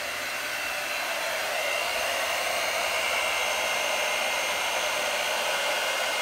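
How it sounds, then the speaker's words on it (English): A hair dryer blows with a steady, loud whooshing hiss that holds constant throughout, with no voices. "I don't think I have my hairdryer plugged in"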